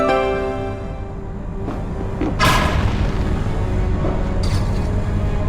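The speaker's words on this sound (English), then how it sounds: "Let's use the Sorcerer's Ring to destroy that gate" A magical blast from the Sorcerer's Ring smashes a gate in Tales of Vesperia, a single deep boom with a broad burst that rises over steady game music and ambience.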